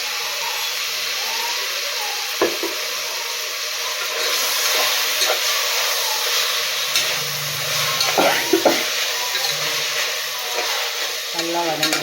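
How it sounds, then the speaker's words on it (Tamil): Mint stirred into onions and tomatoes sizzling in a pan for mushroom biryani, a steady frying hiss with scraping stir strokes throughout, close and moderately loud. "புதினா வந்து சேர்த்து நம்ம வதங்க விடலாம்."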